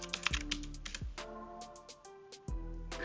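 Keys are tapped on a computer keyboard while typing an admin login, as clusters of close clicks with a short pause, over a faint steady hum.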